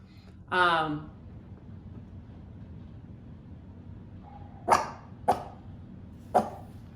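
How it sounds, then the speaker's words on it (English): A few short, high yips from a puppy, three quick barks spaced apart after an earlier whine-like call, slightly distant over quiet background. "I think that's that little boy's puppy"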